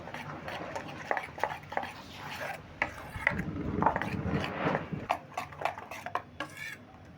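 A ladle scrapes and stirs through batter for bonde in a bowl, with soft repeated clinks and rubbing strokes at an uneven rhythm, close and fairly quiet.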